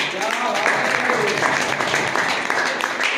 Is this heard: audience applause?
yes